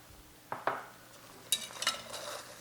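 A spoon stirs penne with pesto and chopped Kalamata olives in a pan, giving a few soft scraping, clinking strokes close up, separated by brief pauses, with no talking.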